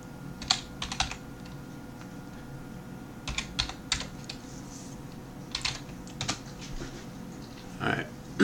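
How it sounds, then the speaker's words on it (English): Quick bursts of keystrokes on a computer keyboard as a password is entered, soft clicky taps in short clusters separated by brief pauses, close and fairly quiet. "Type in the same password I just typed in."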